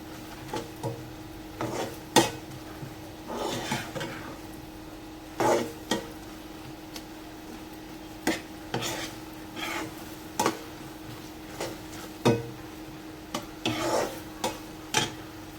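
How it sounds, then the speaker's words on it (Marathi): Spoon scraping and knocking inside a pot while a puran poli mixture with jaggery is stirred over medium gas, irregular soft taps and rubs recurring every second or so, close and fairly quiet. "व्यवस्थित हे असं सगळं मिक्स करून घ्यायचं"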